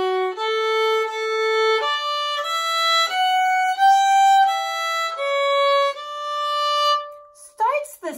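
A bowed string instrument plays the fourth section of the A part of the tune My Darling Asleep, with sustained notes stepping up and down in pitch, alone and close, ending in a few short quick notes.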